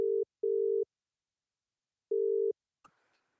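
A phone call to a contact connects with steady electronic ringback beeps, two short tones close together then a third after a pause, followed by a faint click.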